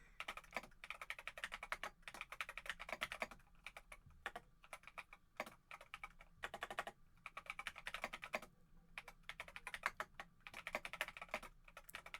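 Rapid typing on a computer keyboard during a game stream, with dense clicky keystrokes in bursts and short pauses, close and fairly quiet, with no talking.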